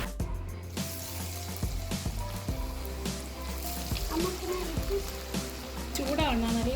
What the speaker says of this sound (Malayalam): ഇതുപോലെ തന്നെ ബാക്കിയുള്ളതും ഫ്രൈ ചെയ്യാം.